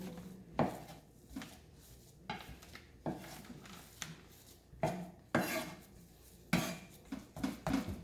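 A knife chops and mixes minced meat with tofu on a cutting board in a kitchen, giving irregular knocking taps and scraping strokes at a moderate level, with no talking.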